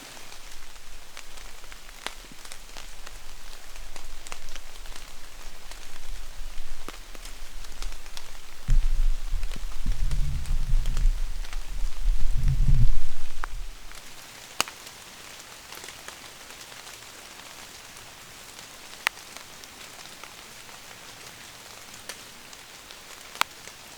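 Rain falls steadily on leaves and ground around a maple tree stand during an early-season bow hunt, an even patter with scattered sharp drops. A low rumble swells midway and then fades, leaving the soft rain alone.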